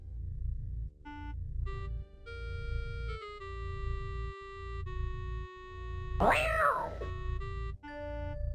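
A cat in the King's Quest 5 adventure game lets out a single short, sharp meow over steady synthesized game music.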